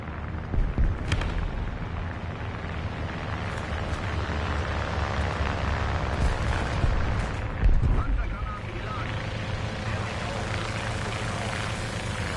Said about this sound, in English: There's my bomb.